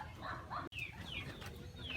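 Racing pigeon arriving at an outdoor loft, with brief wing flaps and soft coos against a continuous background of other birds calling.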